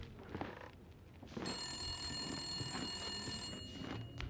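An old-style telephone bell rings continuously and fairly quietly in The Long Dark video game, starting after a second of muffled game ambience and sustaining a bright, shimmering trill to the end.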